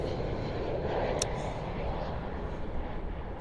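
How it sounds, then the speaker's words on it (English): An Airbus A319 jet, formerly flown by British Midland, at London Heathrow gives off a steady, fairly faint engine roar that holds even for a few seconds, with no talk. "Airbus 319, I believe this is."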